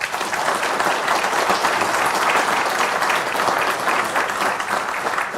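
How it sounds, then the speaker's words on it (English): An audience at a veteran and small business trade show summit gives a round of applause, dense, even clapping from many hands that holds steady at full strength throughout. "Another round of applause for her."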